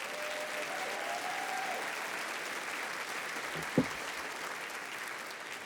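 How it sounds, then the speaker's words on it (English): An audience at a university hall of fame induction ceremony applauds, a sustained wash of many hands clapping at moderate distance for several seconds, with one sharp thump midway. "let everybody clap for them"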